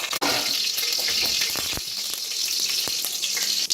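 Mustard seeds frying in hot oil in a pan, a continuous bright sizzle with scattered small pops and crackles, close and fairly loud, no talking.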